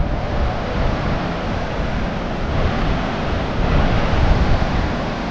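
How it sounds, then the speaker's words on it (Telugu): Fast-flowing Nagavali river water rushing beneath a suspension footbridge in Odisha, a steady, dense roar of churning current that fills the whole clip without pause, close and fairly loud, with some wind buffeting the microphone. "ప్రవాహం కూడా చాలా డేంజర్గా ఉంది"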